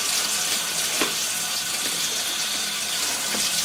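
Steady broadband rush of water flowing from a tap into a sink, continuous and fairly loud throughout with a few small splashes and clinks, no talking.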